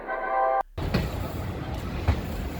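The Kanchanjunga Express train rumbles steadily into Bardhaman Junction station with a broad, continuous mechanical noise, preceded by a brief tonal sound that cuts off abruptly.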